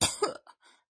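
A storyteller's voice imitates a bear coughing pitifully, giving two quick raspy coughs followed by a weaker throat-clearing rasp, close and alone.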